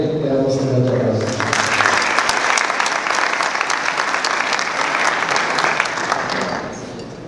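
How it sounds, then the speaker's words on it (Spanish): Audience at an international aquaculture forum applauding an honoree, a strong, dense burst of clapping that sets in as an announcer finishes speaking, holds steady for several seconds, then eases off slightly near the end. "a quien también le damos un fuerte aplauso"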